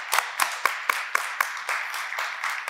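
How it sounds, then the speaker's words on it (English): A lecture audience at a talk on arts, health and the House/Ballroom movement claps for a speaker, starting with a few spaced, distinct claps that quickly merge into steady, moderately loud applause. "yes, please, applause for Michael"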